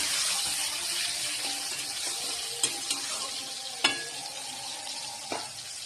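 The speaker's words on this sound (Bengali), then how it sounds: "এবার আমি তেলের মধ্যে টমেটো ছেড়ে দেবো" Tomatoes fry in hot oil in a pan with a continuous hiss and sizzle, broken by a few sharp clicks and pops from a spoon or utensil, heard up close.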